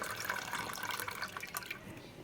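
Quiet sloshing and splashing of water as tender tamarind leaves are swished and rinsed in a bowl, steady and close.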